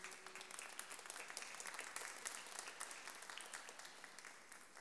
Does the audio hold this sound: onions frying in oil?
no